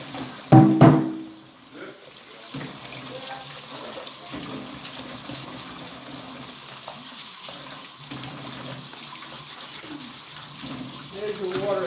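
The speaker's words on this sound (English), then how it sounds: "There's your water ASMR." Water runs steadily from a faucet into a sink in a home kitchen, a continuous close hiss after a brief clatter at the start, with faint voices in the background.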